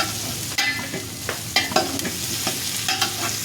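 Ginger frying in a pan for chicken tinola, a loud close sizzle punctuated by repeated sharp scrapes and clacks of a spoon stirring against the metal.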